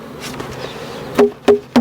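A honeybee swarm being transferred into a small nucleus hive buzzes steadily throughout, then three sharp, loud knocks on the hive box ring out at even intervals near the end.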